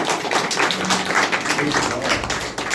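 A church congregation applauds for the Lord, a brief wash of crowd clapping blended under a preacher's continuing voice.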